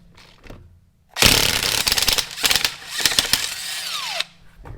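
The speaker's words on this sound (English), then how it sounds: "then take them off with the impact gun" Impact gun rattling car wheel lug nuts loose in several loud, close bursts, with brief pauses between and a falling whine as the tool spins down at the end.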